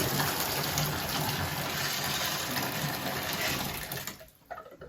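Hot water runs steadily from a tap in a constant rushing stream that fills nearly five seconds, then cuts off near the end, leaving a few faint drips and clinks.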